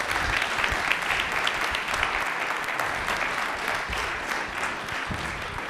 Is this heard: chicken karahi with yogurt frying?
no